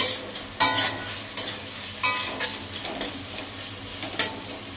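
Dried chili and ground pepper stirred in a frying pan for egg chow mein: sharp metal spatula scrapes and clinks come in irregular strokes over a faint sizzle, with no talking.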